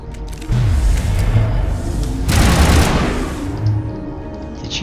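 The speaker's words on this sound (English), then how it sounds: "And now I get to shoot Benezia." Rapid gunfire in the Mass Effect video game, fired at Benezia on Noveria, comes as loud sustained bursts with a heavy blast partway through and a rumbling low tail.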